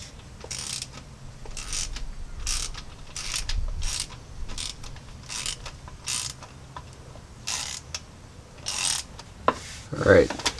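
A ratchet with a swivel loosens the crank position sensor bolt on a Jeep 4.0L engine, giving repeated bursts of close metallic clicking in an uneven rhythm with brief pauses, then a louder clunk near the end.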